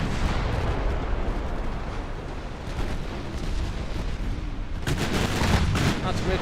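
Naval gunfire from warships in the game Ultimate Admiral Dreadnoughts, a dense, continuous barrage of booming shots and blasts throughout, growing heavier and sharper near the end.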